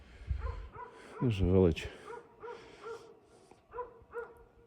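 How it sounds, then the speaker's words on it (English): A dog barks a few times in an Italian village, sharp yaps spaced out amid other barks in the distance, while someone talks over them outdoors. "And you have your customary barky dog"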